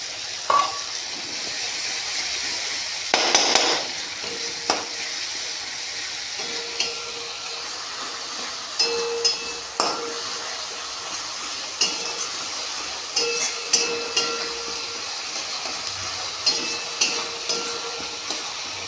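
Ginger and green chilli paste fries in a pan with a steady hiss, while a spoon or spatula scrapes and clinks against the metal in scattered strokes through the stretch.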